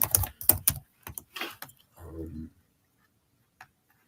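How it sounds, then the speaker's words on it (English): Computer keyboard keys clatter in a quick burst of close clicks, followed by a short pause and a single later tap, with a brief voice murmuring in between. "I was speaking and typing at the same time."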